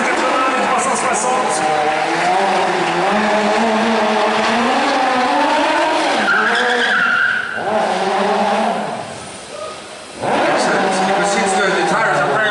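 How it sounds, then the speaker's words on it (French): A stunt show car whips through 360s and 180s to heat brand-new tires, its engine revving in surging waves with screeching skids, then a brief lull before the roar returns, with crowd noise and talk over it. "so that's why we do all those figures, those warm-ups"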